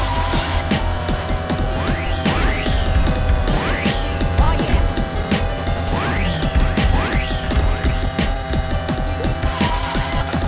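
Busy Mario Kart DS game music with pounding, repetitive drums and clattering hits, dense and loud throughout, with recurring swooping synth sounds and no clear speech.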